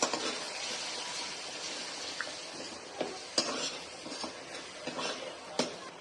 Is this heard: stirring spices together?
yes